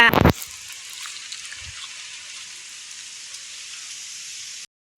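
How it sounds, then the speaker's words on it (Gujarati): After a brief burst of talk, rain falls in a steady, soft hiss across the whole stretch before cutting out abruptly near the end. "અને જો આ ફૂલ વરસાદ આવી ગયો છે"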